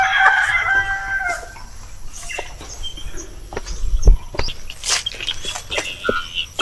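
Native chickens cluck and squawk nearby, with a rooster crowing at the start and scattered calls from the flock throughout.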